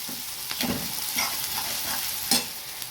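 Onion sizzles in a pan while a spoon stirs it, with soft scraping strokes and a sharper clack near the end, close and steady with no talking.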